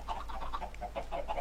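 Minecraft chickens cluck in a semi-automatic chicken farm in the video game, a string of short soft clucks repeating over a steady low background hum.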